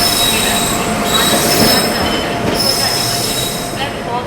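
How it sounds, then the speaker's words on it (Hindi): Vaishali Superfast Express, hauled by a Kanpur-shed WP7 locomotive, arrives at platform 1 of Muzaffarpur Junction, its wheels giving a loud, sustained high-pitched squeal over a steady rumble of rolling coaches. "वैशाली सुपरफास्ट एक्सप्रेस आ चुकी है कानपुर शहर के WP7 के साथ मुजफ्फरपुर जंक्शन के प्लेटफॉर्म नंबर 1 पे।"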